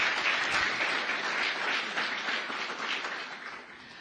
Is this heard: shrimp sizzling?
no